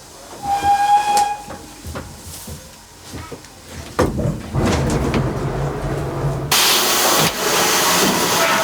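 A GWR steam locomotive whistle sounds loud and close, with bursts of hissing steam, then settles into a sustained, bright hiss toward the end.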